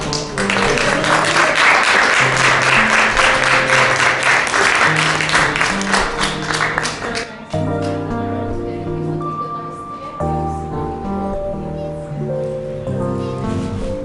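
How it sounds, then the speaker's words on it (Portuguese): Audience applause at a book festival conversation with a writer in Amarante, dense clapping for the first half, then fading as sustained music with steady tones takes over. "eu peço mais uma salva de palmas"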